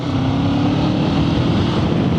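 A Kawasaki Eliminator 500SE motorcycle engine, sharing the Ninja 500's layout, drones steadily as it is throttled up a bridge incline, its low hum mixed with heavy wind rush close to the rider.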